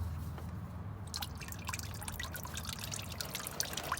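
Engine oil dripping from the oil filter of a Ford Focus during an oil change, a steady run of small close drips and trickles over low background hum, with no talking.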